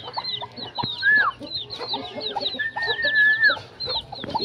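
Native farm chickens, including a returned hen, cluck steadily near the microphone. High chick peeps scatter throughout, and a couple of longer drawn-out calls rise above the flock.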